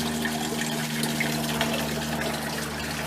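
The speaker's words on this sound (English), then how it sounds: "So I am filling the water buckets." Water runs steadily into buckets being filled for dogs, a continuous splashing flow with a faint hum underneath.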